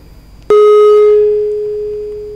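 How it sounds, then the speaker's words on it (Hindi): A single loud steady electronic tone begins abruptly and holds, slowly fading, as a phone call drops on a live call-in show. "डिस्कनेक्ट हो गया शायद मेरे ख्याल ना।"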